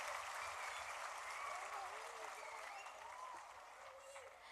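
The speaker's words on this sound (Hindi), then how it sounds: "अगर उनको बच्चों की ये प्रस्तुति पसंद आई हो तो एक बार जोरदार तालियों के साथ उनका उत्साहवर्धन कीजिए।" Parents in a school annual-function audience applaud the children's performance, a dense, steady patter of many hands that fills the whole stretch at moderate distance and eases slightly toward the end.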